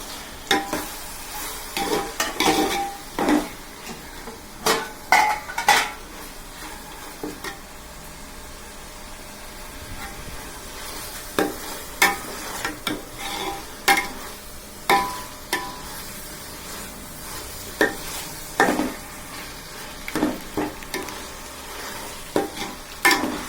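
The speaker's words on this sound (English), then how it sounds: "Now this point, let's add the tomatoes." Tomatoes are added to frying mutton biryani masala and stirred with a spoon in a pot, giving a steady sizzle broken by repeated scraping, clattering strokes, close by and with no talk.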